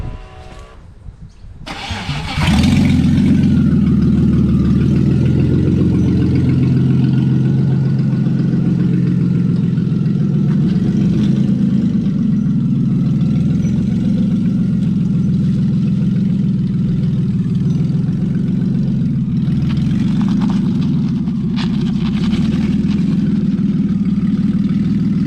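A manual-swapped drift car with an unbled clutch cranks and fires up, then holds a steady, deep, loud idle rumble for over twenty seconds while being driven slowly onto a trailer; no one speaks.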